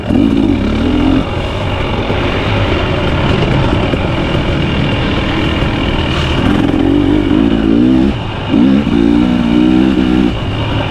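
A 2023 KTM 300XC TBI two-stroke dirt bike revs hard and close in wavering bursts, dropping back to a rough engine drone between throttle blips, with some clatter on a canyon trail.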